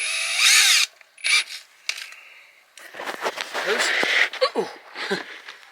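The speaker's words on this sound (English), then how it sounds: "let's get that one and drill from behind" A power drill bores into wood from behind a screen porch kick plate, short bursts of high whirring separated by pauses, with clattering handling and a voice talking in the gaps.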